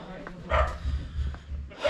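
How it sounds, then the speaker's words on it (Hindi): Dogs barking at a hillside resort property, a few short barks spread across the moment, moderately near, with a person talking over them. "यहाँ कुत्तों को भौंकने की आवाज आती है"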